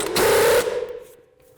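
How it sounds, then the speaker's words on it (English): Short burst of an impact or power tool buzzing as a 21mm socket loosens the top nut of a sway bar link on a 2013-18 Ford Police Interceptor, close and loud for under a second before winding down. "For the top nut, I'm going to take a 21mm socket."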